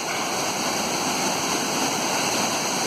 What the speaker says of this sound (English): Linn Falls Waterfall, Aberlour.